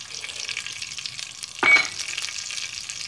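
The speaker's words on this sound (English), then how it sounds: "so the mustard seed, sizzling straight away" A sudden loud sizzle as mustard seeds hit hot oil for South Indian potato masala, crackling and spitting over a steady frying hiss.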